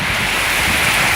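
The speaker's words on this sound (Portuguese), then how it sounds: "começou a cair uma chuvarada aqui em Porto Alegre" Heavy rainstorm downpour in Porto Alegre, Brazil, a loud, steady wash of rain noise with no break and no voices.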